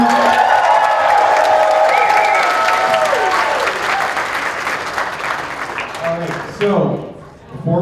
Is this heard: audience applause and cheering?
yes